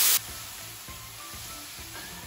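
Food crisping in a pan with sugar, a steady close sizzle of frying under faint stirring knocks, with no talk over it.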